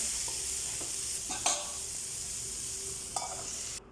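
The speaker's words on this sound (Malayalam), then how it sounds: "നല്ല ഒന്ന് വഴറ്റുക ഇനി നമ്മൾ മാറ്റി വെച്ച ആ അഞ്ചാറ് ചെമ്മീനുണ്ടല്ലോ അത് ഇതിലേ ഇതിലേക്ക് മിക്സ് ചെയ്യുക" Prawns stirred and sautéed in a pan for a Kerala-style chemmeen roast, with a soft steady sizzle broken by a few scraping stirs of a utensil and no speech.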